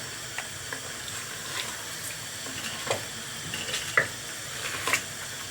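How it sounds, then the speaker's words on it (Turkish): Spices, pepper and chili paste being stirred into a sizzling pot of chicken soup with orzo-like vermicelli: faint, steady frying hiss with soft, irregular scrapes and clinks of the spoon, no talking. "güzelce karıştırıyoruz"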